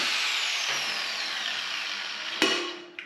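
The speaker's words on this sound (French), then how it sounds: "à la fin, c'est une découpe à la disqueuse" An angle grinder cuts through a steel exhaust tube, a loud, close, high whine that slowly drops in pitch, then a sharp clank near the end as the cut finishes and the disc spins down.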